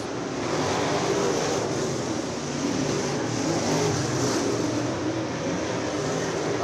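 Stock cars race around the oval at Screven Motor Speedway during the Winter Freeze event, a steady, loud roar of several engines in unbroken pack noise with no break.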